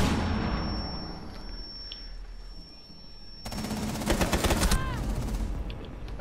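Gunfire in the tactical shooter game Rainbow Six, with dense bursts of rapid automatic shots growing louder in the second half over steady background game noise and a faint voice.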